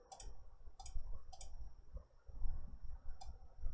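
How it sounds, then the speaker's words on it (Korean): Computer mouse clicking while opening a recently used file, a handful of sharp close clicks spaced unevenly over low background hum and rumble. "최근 파일을 눌러서 음, 세 번째를 클릭합니다"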